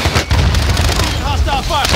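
Dense gunfire in Warzone with a Kilo or MP5 loadout, a steady loud burst of rapid shots filling two seconds, with game voices faintly under it.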